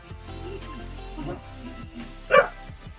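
Dogs at a home give a single sharp bark near the end, standing out clearly over quiet background noise and faint household sounds.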